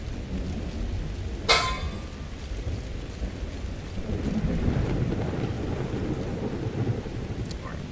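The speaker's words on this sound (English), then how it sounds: "Hope this rain clears up soon." Steady rain and low rumbling thunder from a storm in the video game The Elder Scrolls V: Skyrim, with a sharp thunderclap early on over a continuous wash of rainfall and wind.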